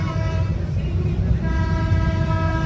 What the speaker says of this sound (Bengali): তারপরে আবার আমাদের ট্রেন কিন্তু ছাড়লো।